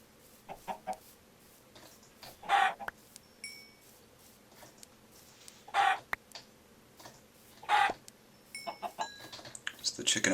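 Minecraft chickens cluck in several distinct bursts amid sparse game sounds, fairly close and clear, with a few quieter clicks and blips between them.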